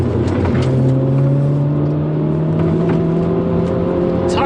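A 2020 Mini JCW DT Edition taken through a chicane at high speed, heard from inside as a loud, continuous engine drone with rising tones under load and road rumble beneath.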